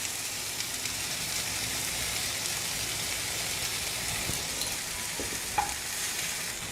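Mint and tomatoes sautéing in a pan for mint chutney, giving a steady, fine crackling sizzle with a few stirring scrapes, close and continuous, with no talk.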